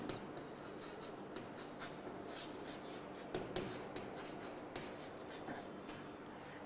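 Chalk or marker scratching across a board during a physics lecture on refraction, a steady low scraping texture with faint taps, close and fairly quiet, with no voice over it.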